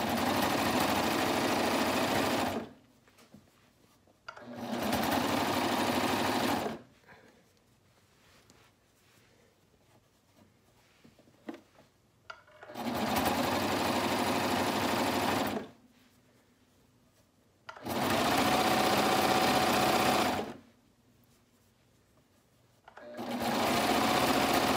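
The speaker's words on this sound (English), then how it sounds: "I am using matching thread here because it is top stitching and I want that look for this shirt." A sewing machine topstitches a knit shirt neckband with matching thread, running in loud, steady bursts of several seconds each, separated by quiet pauses that hold light handling clicks.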